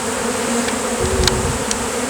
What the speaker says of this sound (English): See that little pile of bees right there?